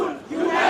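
Crowd of youths at a student protest, a loud massed chant or shout from many voices, brief and sustained without individual words standing out.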